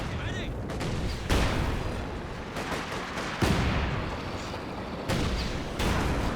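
Artillery counter-barrage in the strategy game Company of Heroes 2, fired against infantry support guns, with heavy booms and crackling shell impacts arriving in several loud bursts over a dense battle din.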